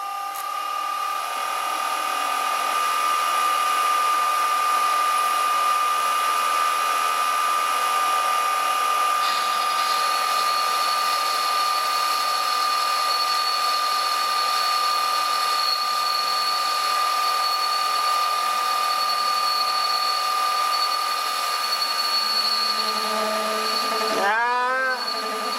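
Metal lathe machining a screw-on drill chuck arbor at 600 RPM, with a loud steady high-pitched tool chatter whine holding for most of the span before a brief clatter near the end.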